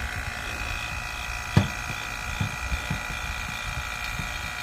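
A Bacoeng 3.6 cfm vacuum pump for AC work runs with a steady electric motor hum and a high whine, pulling vacuum on a Zokop mini split, with a few faint clicks and knocks over the drone.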